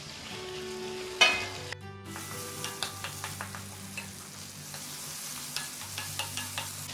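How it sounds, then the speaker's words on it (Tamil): Tomatoes sauté in a pan for a curry leaf chutney, with a low sizzle under regular, light clinks and scrapes of a stirring spoon, close by and without talk. "பாருங்கள், தக்காளி கூட நல்லா வதங்கி ஆயிடுச்சு."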